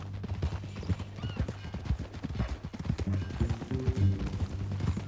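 Horse hooves clip-clop at an unhurried walk in Red Dead Redemption 2, close and steady, with a brief whinny and some low rumbling in the background.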